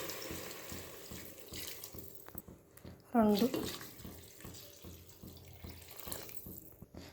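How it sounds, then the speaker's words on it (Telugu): Water is poured from a pot over raw rice seasoned with turmeric, salt and chili powder: a short, loud splashing gush in a kitchen, with brief speech before and after it. "ఏ లోటాతో బియ్యం తీసుకున్నా ఆ లోటాతోనే వాటర్ పోస్తున్నా"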